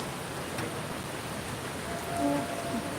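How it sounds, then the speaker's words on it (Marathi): Heavy rain suddenly starting, a dense steady hiss of downpour with a faint tonal sound briefly rising near the end. "अचानक असं पाऊस चालू झाला जोरातच आलाय छान आलाय पाऊस"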